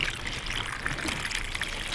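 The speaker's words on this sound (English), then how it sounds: "to purge them, you just run water over them for about 20 to 30 minutes" Tap water runs steadily over live crawfish being purged, a continuous splashing trickle that stays even and fairly soft throughout, with no voices.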